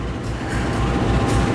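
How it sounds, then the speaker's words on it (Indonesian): Loud, close rumble of the Kahuripan passenger train hauled by a locomotive in vintage 1980s PJKA livery, a continuous heavy rolling roar with faint rhythmic wheel beats and no voices. "saya beruntung sekali naik kereta api Kahuripan disandingkan dengan lokomotif seperti ini"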